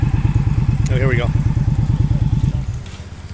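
A vintage gasoline-powered Indian motorcycle from around the 1920s or 1930s runs at an outdoor engineering show, its engine thumping in a steady, rapid, loud close rhythm, with a brief whistle-like sound over it before it fades at the end.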